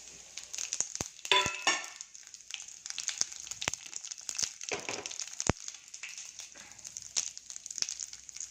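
Cumin seeds and curry leaves hitting plenty of hot oil in a pan, giving a steady crackling sizzle with sharp pops scattered throughout, close and fairly quiet, no voices.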